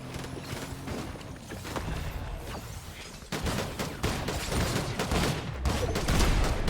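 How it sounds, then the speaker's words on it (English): Gunfire in the video game Fortnite: a rapid series of sharp, loud shotgun-like blasts and clattering impacts, with a bigger burst about halfway through and steady firing after it, alone with no talk. "Oh yeah, shotgun."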